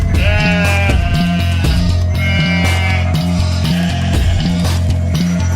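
Sheep bleat loudly and close by, several wavering calls overlapping in quick succession with no other sound.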